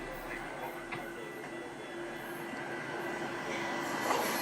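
An Amtrak train rolls past a suburban station, a steady low rumble of wheels and engine that grows slightly louder toward the end, heard from a moderate distance with no voices.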